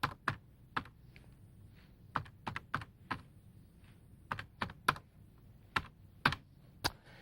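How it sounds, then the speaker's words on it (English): Fingers typing an IP address on a computer keyboard, with a dozen or so distinct, crisp key clicks in irregular short bursts and pauses, close and fairly quiet against a faint low background hum. "I move over to the IP address, and I type in the IP address that they've given me."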